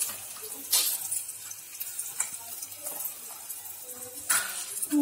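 Fried tempering poured into kara chutney makes a splashing, sizzling pour with short louder bursts over a soft steady background, close by and without speech.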